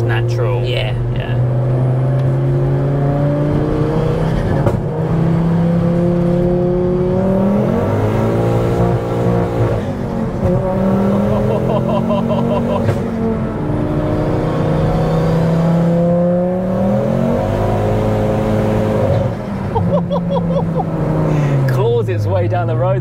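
A 400bhp fully forged Ford Focus ST revving hard through a straight-through exhaust: loud, close engine rises and falls repeated over and over, with light crackles on the overrun, while people talk over it.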